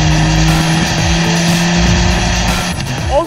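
Fiat Abarth 124 Spider with a 1.4 liter engine runs loud and close, a droning engine note with rising and falling revs throughout, ending in a brief sharp tire squeal.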